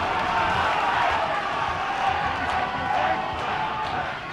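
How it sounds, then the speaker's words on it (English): A home rugby crowd at Swansea versus Pontypridd cheers and roars steadily in the background, a broad sustained wash of noise with a commentator speaking over it. "the home crowd trying to get behind their team now for this remaining quarter of an hour"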